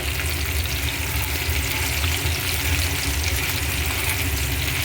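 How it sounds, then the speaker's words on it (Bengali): A loud, steady sizzle of chicken pieces frying in hot oil, continuous crackling hiss without pause. "এই খোলাটা ভাজা হয়ে গেলে আমি আরেক খোলার পরেরগুলো ভেজে নেব"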